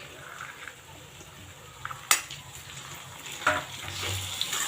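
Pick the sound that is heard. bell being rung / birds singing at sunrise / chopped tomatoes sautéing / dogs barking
chopped tomatoes sautéing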